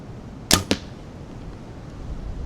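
Two sharp, close impacts in quick succession, like arrows thudding into a target, then quiet outdoor background.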